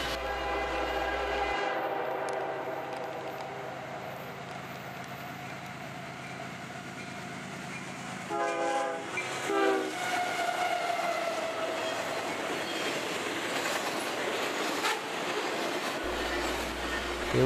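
A CSX freight train led by GE ES44AC locomotive 811 with two more General Electric engines rolls past on the Mohawk Sub, its horn sounding in long blasts over a steady rumble of wheels and engines.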